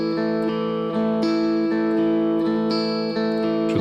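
Electric guitar played with a Black Mountain slide ring through a worship song's verse and chorus, sustained chords changing every half second or so, smooth and continuous with no voices.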